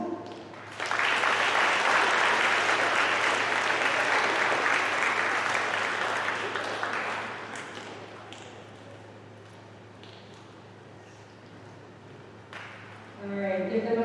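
A school audience at a middle school awards ceremony bursts into loud, sustained clapping that gradually thins out before a voice resumes.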